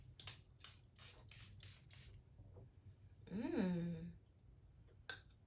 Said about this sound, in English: It's a setting spray.